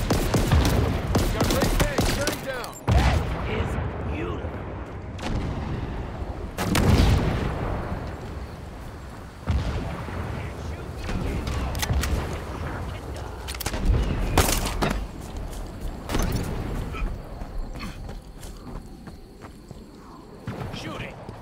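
Heavy booming tank cannon fire and gunfire from the video game Halo Infinite crack out in repeated loud blasts with rumbling tails, spaced irregularly across the stretch with scattered smaller impacts between.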